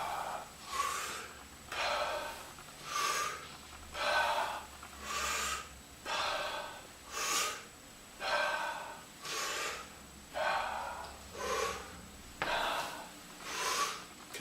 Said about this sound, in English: you see me breathing this fast